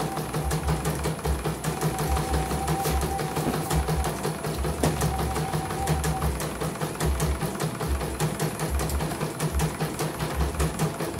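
An embroidery machine stitches steadily after a repair for a total jam, its motor hum and fast, regular needle ticking continuing close and loud throughout, with no talk over it.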